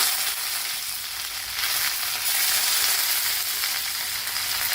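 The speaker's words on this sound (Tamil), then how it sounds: "அது நல்லெண்ணங்கிறதுனால இப்படி புகையிறது இப்படி பொங்கிட்டு வருது மற்றபடி தீயெல்லாம் இல்லை" Curry leaves fry in hot, smoking sesame oil, giving a loud, steady, crackling sizzle close by with no voices over it.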